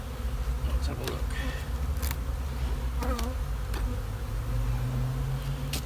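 Honey bees in an opened hive full of frames produce a dense, continuous buzz close by, with individual bees zipping past in brief louder passes over the steady hum.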